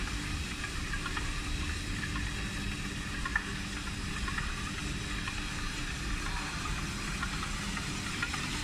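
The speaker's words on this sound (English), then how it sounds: "feed to the spooling rewinding machine. 6 stations working at the same time." A spooling and rewinding machine for narrow foam tape runs with six stations working at once, giving a steady mechanical hum and hiss throughout with no breaks, in a noisy factory setting.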